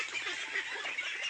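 Ducks on a small farm of about fifty birds near water give a dense chorus of quacks and honking calls, loud and continuous at close range, with no talk.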